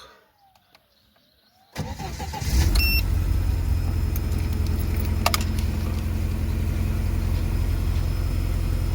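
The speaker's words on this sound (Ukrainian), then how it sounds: "Поставили головку, теж мотор повністю робили, холодний запуск." Lada Niva engine cold-starting after a cylinder head replacement and full engine rebuild: quiet clicks, then the starter cranks and the motor catches, settling into a loud, steady idle close by.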